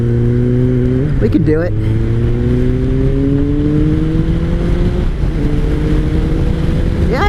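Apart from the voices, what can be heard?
2003 Kawasaki ZR7S motorcycle engine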